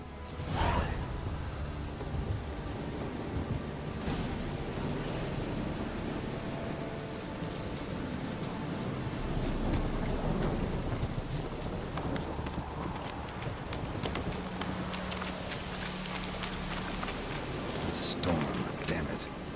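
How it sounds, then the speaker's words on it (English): Rain falls steadily in a stormy outdoor scene in The Witcher 3, a constant hiss with occasional gusts and soft thuds beneath, a short tonal hum in the middle and a sharp crack near the end, no voices. "Storm, damn it."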